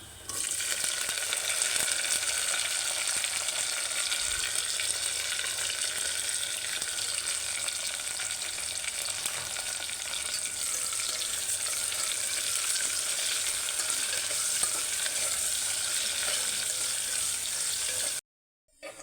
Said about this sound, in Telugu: అయితే ఆనియన్స్ అనేవి బాగా ఫ్రై చేయడం అవసరం లేదులేండి నార్మల్గా ఫ్రై అయితే సరిపోతుంది